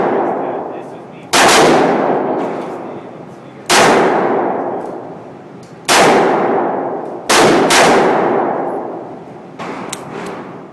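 Four loud revolver shots from a Ruger LCR snub-nose firing 130 grain .38 Special full metal jacket rounds, evenly spaced about two seconds apart, each a sharp crack with a long ringing decay, no talk.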